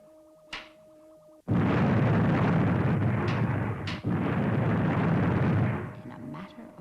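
A volcano erupts in the science-fiction puppet series Fireball XL5: a sudden massive roaring rumble bursts in after a quiet start, holds loud and dense for several seconds with a crack midway, then cuts off abruptly.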